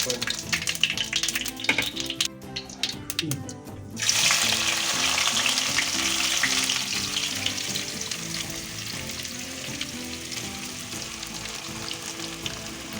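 Whole chilies, panch phoron and turmeric hit hot oil, bursting into a loud, dense sizzle that continues steadily after a few seconds of softer crackling.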